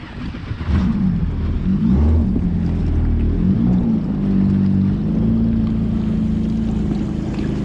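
A new personal watercraft jet ski runs steadily on open water, its engine droning loud and close, with pitch rising and falling as it rides along, no talking.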